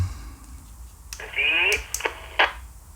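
A burst of crackly, squelchy transmission over a Belfone BF-SC500U dual-band two-way radio, with clicks at its start and end, set against a low background hiss.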